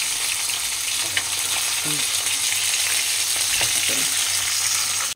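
Fish frying in a pan gives a loud, steady sizzle with a few scraping turns of the utensil, continuous throughout before cutting off abruptly at the end.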